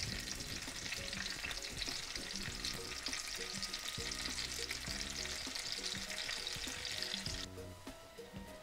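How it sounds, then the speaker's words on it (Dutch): Rice for nasi goreng sizzles and crackles steadily in a hot pan, with occasional scraping as it is stirred, close and continuous. "je gaat dit eigenlijk even bakken tot het wat donkerder wordt"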